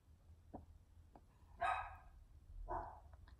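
A pet dog barks twice during a movie review conversation, two loud, fairly close yelps about a second apart over a quiet room hum, with a few faint clicks between them.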